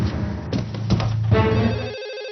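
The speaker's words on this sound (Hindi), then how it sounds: "अरे फोन आया है।" A telephone rings in a Doraemon cartoon, with repeated electronic bell bursts sounding over a bed of music, close and clear, then cutting off toward the end.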